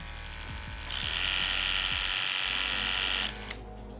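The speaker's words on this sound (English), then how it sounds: "As far as the sound test goes, here's the Oster and here is the Andis Supra." Cordless hair clippers, an Oster Cordless 76 and then an Andis Supra ZR 2, give off a steady, close electric buzz after a few handling clicks. The buzz holds for about two and a half seconds, then cuts off and a second motor starts briefly.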